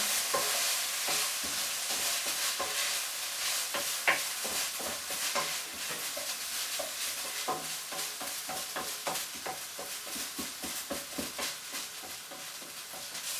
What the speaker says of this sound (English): Hotly followed by the vegetables. Get that stirred in.